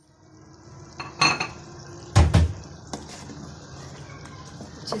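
Metal spoon scraping and clanking in a pan while stirring softened potatoes and tomatoes with spices, a few sharp close knocks over a quiet sizzle, with light scraping between.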